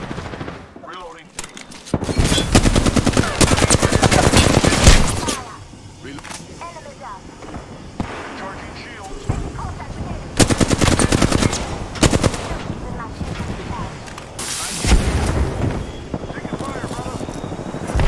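Bursts of automatic gunfire and explosive blasts in the battle royale shooter Apex Legends, loud clustered volleys separated by quieter gaps, with a player's voice calling out between them.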